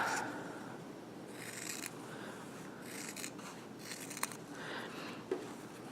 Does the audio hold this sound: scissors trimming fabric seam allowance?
yes